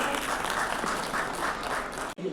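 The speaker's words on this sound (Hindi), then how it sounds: "भावना जी के लिए जोरदार तालियां हो जानी चाहिए।" Loud, steady applause from a crowd at a women's award ceremony in Delhi, a dense wash of clapping that holds for about two seconds before briefly cutting out and resuming.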